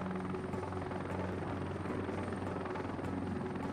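A military helicopter in the game Heliborne, on a Khost Province, Afghanistan map, gives a continuous loud rotor drone and engine whine with a steady chopping thrum, unbroken for the whole stretch with no voices.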